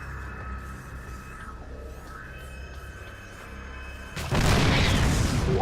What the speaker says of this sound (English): His siege tank made short work of those guys.